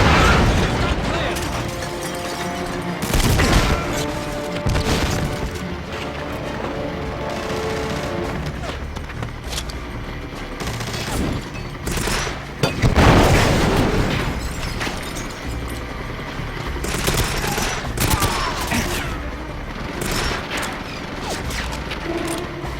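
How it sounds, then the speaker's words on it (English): Rapid bursts of gunfire and booms crackle loudly and continuously through a jungle war video game set in Nigeria, with mechanical clicks between volleys. "I'm being shot at by someone"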